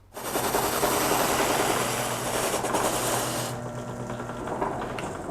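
A heavy guitar buffing wheel spins at speed, giving a loud, continuous rattling machine roar that holds steady for several seconds and eases slightly toward the end.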